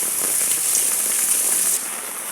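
Very heavy rain pounds down in a dense, loud, constant hiss with scattered spatters close by, and it eases a little near the end. No one speaks.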